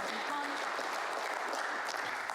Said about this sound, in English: And you heard the cheer from the crowd.